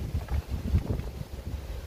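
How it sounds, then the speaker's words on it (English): Stormy outdoor wind buffets the microphone with a low, rumbling roar that pulses unevenly throughout and stays close and steady. "Pretty windy, as you can hear,"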